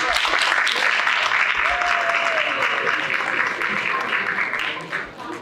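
Students at a STEM academy assembly applaud a guest speaker, a steady dense clapping from a large group filling the room, with a few cheers rising briefly and the applause tapering near the end.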